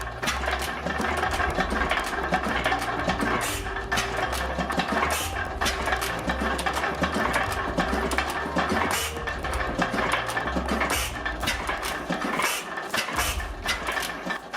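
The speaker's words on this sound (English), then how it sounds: "This is a heavy-duty diesel block, packed with a combustion chamber displacement reaching 19 liters." A large air-cooled Tatra V12 Type 930 diesel engine of about 19 liters runs continuously at a steady idle, loud and close, with a rough mechanical clatter and no voices.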